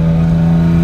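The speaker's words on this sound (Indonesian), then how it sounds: "Dan sekarang nih menurut gua buat tarikannya nih kayak lagi di gigi 4 aja digas gini." A BMW E36 six-cylinder engine revs through a new Valvetronic exhaust, giving a loud, steady, close-up drone with a strong low hum that holds for under a second.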